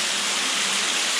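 A small waterfall spilling down inside a limestone cave, heard as a continuous close hiss of falling water with no voices.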